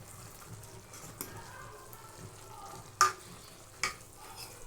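A pan heating on the stove for stir-fried instant noodles gives a faint, low sizzle with a few sharp clanks of utensils against it, quiet and close.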